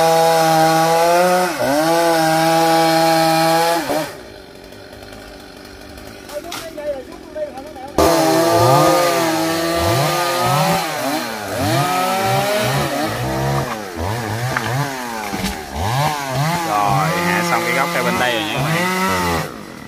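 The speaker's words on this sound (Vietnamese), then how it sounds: "anh Tùng anh phải cưa mấy nhánh nó từ từ" A chainsaw cuts branches of an old tamarind tree, its engine revving and bogging in repeated cycles, pausing briefly midway, with speech at times.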